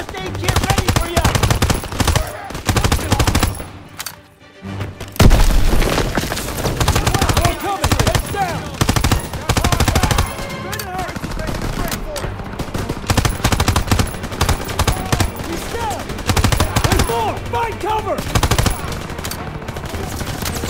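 Sustained machine gun fire in a Call of Duty: WWII battle, loud and dense rapid bursts with brief lulls, while soldiers shout in the background.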